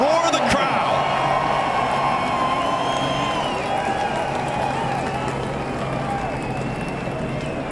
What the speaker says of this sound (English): Listen to the roar of the crowd.